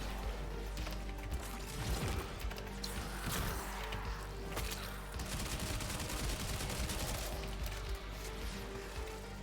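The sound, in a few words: Stug gun firing at an acolyte in the video game Warframe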